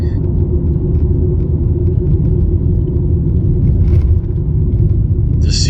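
A car drives along a road in Mexico between Torreon and Mazatlan, giving a continuous loud low rumble of engine and road noise, heard from inside the vehicle with no break.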